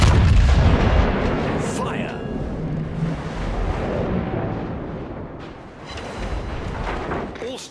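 Battleship guns fire in a naval battle in World of Warships, with heavy booming salvos and rumbling low-end blasts rolling under steady voice chatter throughout.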